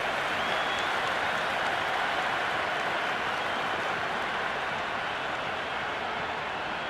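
Stadium crowd at a Pakistan versus Australia cricket match in the Cricket 26 game, a dense, continuous roar of applause and cheering that stays loud and even throughout.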